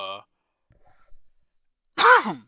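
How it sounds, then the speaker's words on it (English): A single harsh cough bursts out after a short stretch of quiet, preceded by a brief voiced sound at the start. "Sorry, I'm still coughing."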